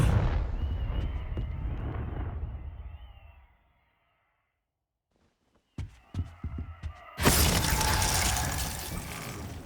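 In the video game Hogwarts Legacy, a Confringo fire spell fades from a loud rumbling roar into silence, then a few sharp crackles lead into a loud, sustained fiery blast.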